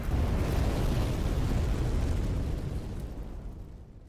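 The Rune of Death catching fire in the video game Elden Ring: a loud, broad roaring burst of flame that holds steady and then slowly fades away.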